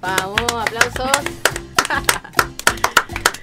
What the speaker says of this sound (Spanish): Vamos, aplausos.